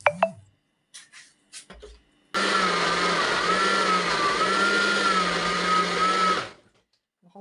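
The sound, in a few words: blender mixing all the chicken marinade ingredients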